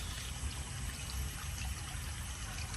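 River water rushes steadily through an overgrown spot near Puan, Davao City, a continuous close hiss with no pauses or breaks.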